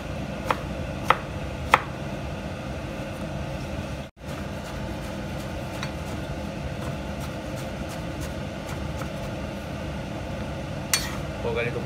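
A knife chops vegetables into small pieces on a cutting board for couscous, quick light taps scattered over a steady hum of kitchen background noise, fairly faint and close.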